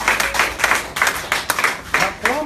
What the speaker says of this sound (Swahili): Basi na kuomba makofi makubwa huku kiketi mbele za Bwana